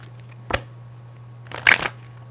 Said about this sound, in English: Gosh, that was terrible shuffle